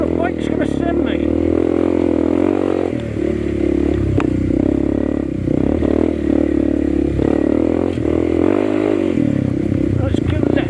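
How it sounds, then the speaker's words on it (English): A CRF301CC dirt bike is ridden offroad on light throttle, giving a steady low engine drone with some clattering and scraping from the rough ground throughout. "I'm literally hardly touching the throttle because I'm not confident where the bike's going to send me"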